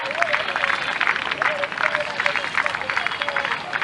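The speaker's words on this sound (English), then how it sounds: "Give her a big round of applause" Outdoor crowd applause and cheering for a Hungarian medallist at a canoe marathon world championships, continuous under a loud announcer's voice.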